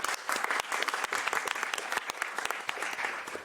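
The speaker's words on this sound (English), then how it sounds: "please, a round of applause for all our panellists for this session" An audience at a conference session claps for the panellists, a dense, even burst of applause filling the room from start to finish.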